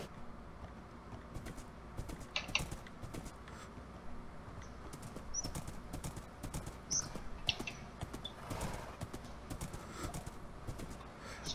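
Horse hooves clip-clopping while riding in the Minecraft video game, a steady run of soft, quick hoofbeats with faint bird-like chirps, at moderate level throughout.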